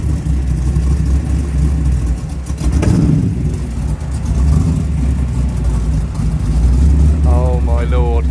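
A carbon-bodied Chevrolet Camaro pulls away from a standstill, its engine rumbling steadily and rising as it starts to drive, with people talking and exclaiming over the continuous engine noise.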